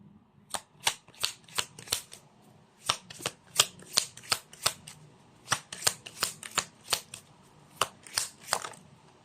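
Playing cards are shuffled repeatedly, a rapid series of crisp riffling bursts in quick rhythm, close and fairly loud with no talking.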